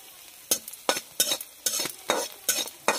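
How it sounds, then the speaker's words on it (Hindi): Onion sizzles in a pan while being browned, with about seven distinct scraping stirs of a spoon at a steady rhythm over a soft background fry, close and clear, no talking. "थोड़ा सा इसको ब्राउन करना है, बस इतना ही भूनेंगे।"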